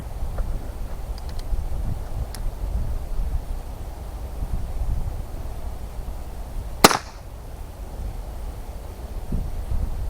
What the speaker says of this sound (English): one shot with CCI Quiet